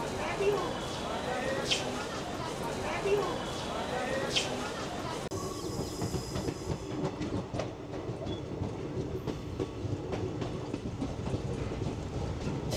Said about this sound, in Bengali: আমাদের ট্রেন এখন ছেড়ে দিল জাস্ট নৈহাটি স্টেশন।